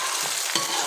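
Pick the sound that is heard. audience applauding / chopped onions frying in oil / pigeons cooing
chopped onions frying in oil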